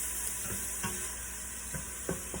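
Vegetables for a vegan pumpkin soup sizzle softly in a pan, a steady faint hiss broken by a few light stirring scrapes and pops.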